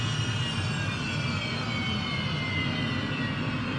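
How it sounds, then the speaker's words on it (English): Aircraft engines at an air station spool down after shutdown, a loud steady broadband roar with a whine slowly descending in pitch, no voices. "we're going to cut the engines"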